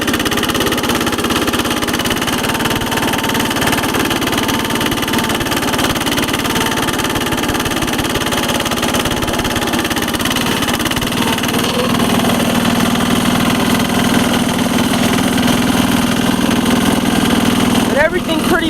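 A Case 446 tractor repowered with a Lombardini 6LD 435 diesel engine idles at a constant rumble for the whole stretch, loud and close, with a person talking over it.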